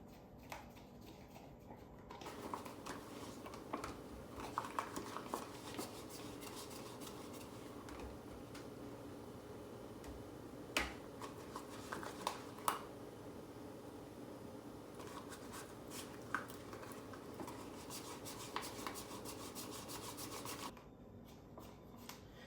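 Butter rubbed by hand into silicone baking molds for an apple cake, a soft continuous scraping and rubbing with scattered light taps and clicks, close and steady with no talk.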